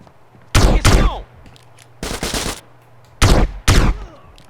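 Gunfire in the video game GTA San Andreas: loud, close bursts of shots in three clusters, two sharp reports, then a rapid rattling burst, then two more, with quiet hum between.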